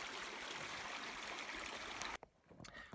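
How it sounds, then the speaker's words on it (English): Strawberry Creek, a slow, bubbling little stream in a burned-out former quaking aspen grove, makes a steady, close rush of water that cuts off abruptly near the end. "It's kind of just a slow bubbling little stream"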